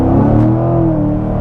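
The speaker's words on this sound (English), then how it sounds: "You actually get some exhaust crackles out of it" A 2019 Chevrolet Corvette C7 engine pulls hard under acceleration, a loud, close, rising V8-style drone with a brief upward surge, no voices present.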